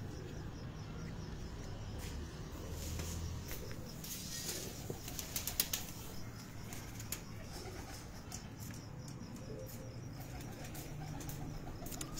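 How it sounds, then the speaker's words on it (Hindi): Pigeons kept on a rooftop loft in Sahiwal, with soft cooing and occasional wing flaps over steady low outdoor background noise, no talk. "बेहतरीन कबूतर है"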